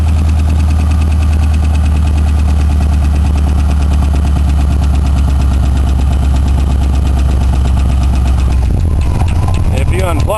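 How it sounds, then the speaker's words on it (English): A Ford Crown Victoria engine idles steadily with a light ticking throughout, loud and close, its idle shifting near the end. "There, the idle dropped a bit. Still got that tick."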